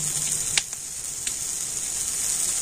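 Tomato and spices frying in a pan give a steady, close sizzle with a couple of sharp spatters and pops early on, the hiss continuing evenly throughout without speech.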